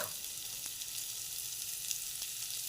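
Paneer tossed with Kitchen King masala roasts in a hot pan for palak paneer, giving a steady close sizzle and hiss throughout with a couple of faint stirring ticks and no voices.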